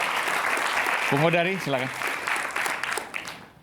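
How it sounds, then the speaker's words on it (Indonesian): An audience at a political talk event in Indonesia breaks into steady, moderately loud applause. Someone speaks briefly over the clapping as it carries on and slowly thins out. "Baik, kita berikan tepuk tangan."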